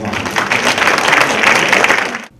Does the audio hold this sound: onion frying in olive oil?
no